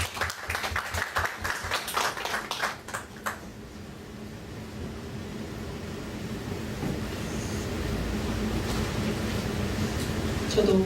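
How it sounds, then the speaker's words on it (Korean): A church congregation applauding to welcome someone speaker, dense rapid clapping for about three seconds that stops abruptly, leaving low room rumble and faint background murmur. "이영희 목녀님을 박수로 한번 환영하겠습니다"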